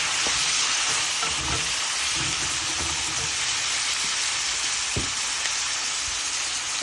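Flat beans and potato frying in oil, a steady dense sizzle and crackle with a few soft knocks and stirs, close and fairly even throughout.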